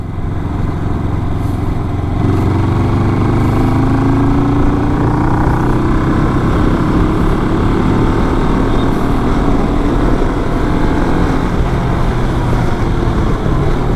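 A Royal Enfield Himalayan 400 twin-cylinder motorcycle (39 bhp) cruising smoothly at about 40 km/h in top gear, its engine a loud, steady close drone with wind rush that swells slightly after the first couple of seconds.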